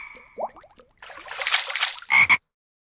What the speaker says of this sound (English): there, right in front of them, were lots and lots of frogs